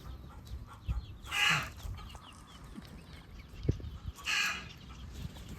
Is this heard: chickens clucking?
yes